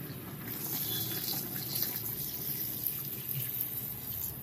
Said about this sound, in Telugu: ఫస్ట్కి నీళ్ళు పోస్తున్నాం.